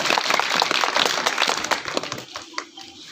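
A crowd at a school event claps steadily in a dense burst of applause that gradually thins and fades over a few seconds.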